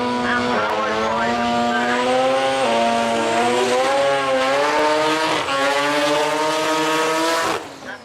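A loud, high-revving rotary engine in a Japanese drag racing car screams continuously, its pitch climbing and dropping through gear shifts before cutting off abruptly near the end.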